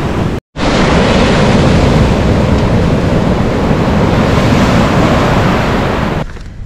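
Surf rolls onto a warm beach at a Cayo Largo resort in Cuba, a loud, continuous roar of breaking waves mixed with heavy wind buffeting the microphone, briefly cut out near the start.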